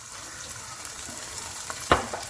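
Garlic and ginger sizzle in a pan with soy, dark and light sauces, a steady frying hiss with a sharp scrape of stirring near the end; no voices.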